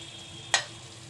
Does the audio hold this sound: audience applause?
no